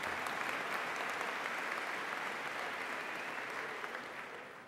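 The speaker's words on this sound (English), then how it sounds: "You can clap for Sister." Steady applause from a large audience at a college graduation address, continuous clapping that fades slightly toward the end.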